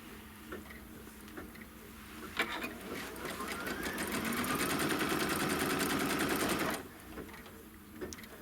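A sewing machine stitching the trim line on a quilt block, a few faint ticks and then a steady mechanical whirring run of several seconds, near and moderately loud before stopping.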